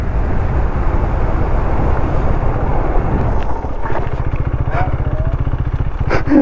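A KTM Duke 390 motorcycle engine revving loudly nearby, rising into a fast, pulsing roar as it pulls a wheelie, with outdoor background noise and voices mixed in.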